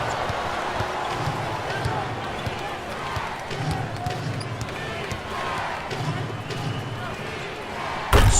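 A basketball dunk in NBA Live 14 between the Miami Heat and the San Antonio Spurs comes through as a steady din of bouncing balls, sneaker squeaks and arena crowd noise, ending in a loud slam.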